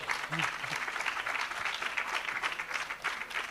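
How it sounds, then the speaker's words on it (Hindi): Audience at a public development event in Narayanpur breaks into steady, dense applause, many hands clapping continuously at moderate volume with brief voice fragments mixed in. "आप लोग ताली बजा सकते हैं आपके लिए कि ये गौरव की बात है।"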